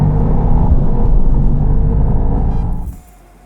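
Mercedes-AMG GT 63 Pro engine pulling hard under full acceleration, a loud, dense, steady roar that holds for about three seconds before dropping away abruptly to near silence.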